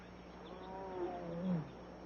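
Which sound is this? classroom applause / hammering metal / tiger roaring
tiger roaring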